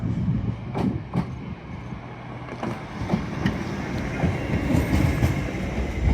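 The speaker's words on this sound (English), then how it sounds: "departing now is Our Planet, the 1159 LNER Azuma service from York, I believe, or Leeds to London King's Cross" An LNER Azuma passenger train pulling out of Doncaster station on the East Coast Main Line, a loud continuous rumble with rhythmic wheel clicks over rail joints, up close and alone without talk.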